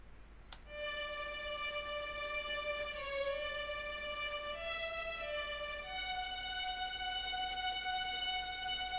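A synthesized violin part playing sustained notes, one held pitch at a time stepping to new pitches every few seconds, steady and clear with a soft noisy bed underneath, no voices.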